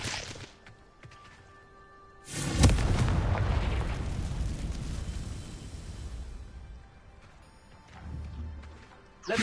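A Confringo spell explodes in a Harry Potter video game with a loud, sudden blast. A long rumbling roar follows and slowly fades, then a lower boom swells near the end.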